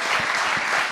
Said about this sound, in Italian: E un applauso per Giovanni De Lisi